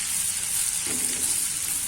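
A spoonful of butter melts and sizzles in a pan while bottle gourd curry is being made, a steady, close hiss with a faint soft knock midway and no talking.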